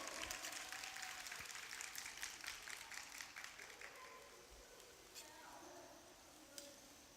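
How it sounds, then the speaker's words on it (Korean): An audience applauds a chef professor who plays saxophone at a cooking concert. Dense clapping is loudest at the start and then slowly thins and fades toward the end. "최고의 모습을 보여주고 계신 우리 교수님께 힘찬 박수 사랑의 박수 보내주시길 바랍니다"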